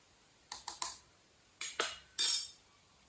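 Crushed garlic paste being mixed in a pot, a few close, sharp metallic clinks of a spoon against the vessel in quick clusters, each ringing briefly against near silence.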